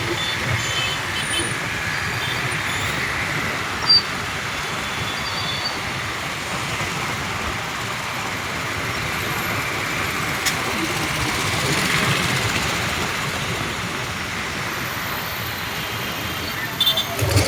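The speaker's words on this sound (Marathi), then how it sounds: "इथपर्यंत हे असं ट्रॅफिक जमा झालेलं आहे" Steady low rumble of many vehicles idling and creeping along a congested road in Pune, with a faint beep now and then.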